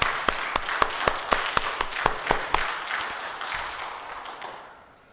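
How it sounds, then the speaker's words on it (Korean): A church congregation at a Wednesday prayer meeting clapping in unison, about a dozen sharp, evenly spaced claps in a steady rhythm, then a fading reverberant tail as the clapping stops. "박수하면서 하나님께 영광 돌립시다"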